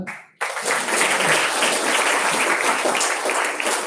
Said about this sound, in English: Now together I want you all to clap hands for the color.